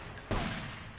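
A single gunshot from the video game GTA III, one sharp burst that rises suddenly and then decays over a fraction of a second, fairly faint.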